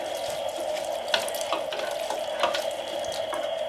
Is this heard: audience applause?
no